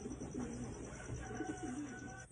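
A grizzle pigeon coos softly in a few low, rounded repeated calls against faint background noise.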